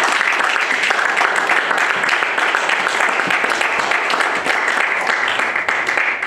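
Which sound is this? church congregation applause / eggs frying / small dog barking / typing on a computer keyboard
church congregation applause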